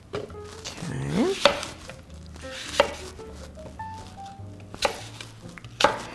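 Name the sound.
knife cutting Granny Smith apple into chunks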